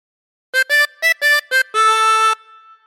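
A harmonica plays a short phrase from Ten Green Bottles: five quick separate notes followed by one longer held note, bright and close with no voices.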